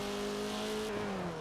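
Race car engine in Forza Motorsport 7 holding a steady, loud tone through a corner, pitch dipping slightly near the end, with no talking.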